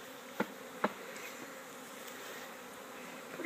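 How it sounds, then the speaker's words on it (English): A swarm of bees buzzing in a stuffed hive box, a soft continuous drone with two sharp knocks early on and a few faint nearby thuds, no talking. "There are actually so many bees in here right now that it's stuffed."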